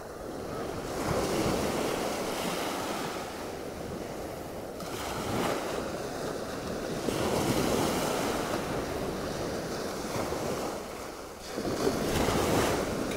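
Small rolling sea waves wash steadily onto Waxham beach on the north Norfolk coast, a continuous broadband surf roar with gentle swells and wind buffeting the microphone.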